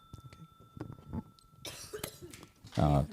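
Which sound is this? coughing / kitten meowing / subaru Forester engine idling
coughing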